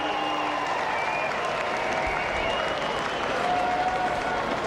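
A cricket crowd applauds Brett Lee's fast bowling during a 2005 match, a dense, continuous wash of stadium clapping and cheering that swells slightly toward the end.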